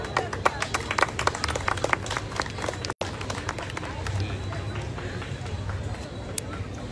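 Crowd at a tourism association awards ceremony in Comitán claps steadily for a hotel association representative, a dense patter of many hands, moderately near, with faint murmuring underneath and a brief dropout partway through.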